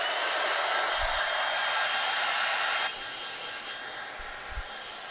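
A hair dryer blows hot air over a piece of artwork, a constant close rushing whir that drops to a lower, quieter setting about halfway through and keeps running alone.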